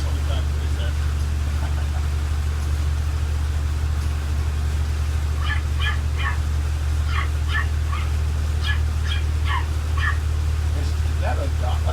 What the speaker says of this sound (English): we hear a dog because this next house is actually called the Rockwaller Residence